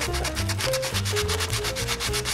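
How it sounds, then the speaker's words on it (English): Sandpaper is rubbed by hand over wood in fast, even back-and-forth strokes, a loud, close, rhythmic rasping with no voices. "Then finally take some sandpaper and smooth it out."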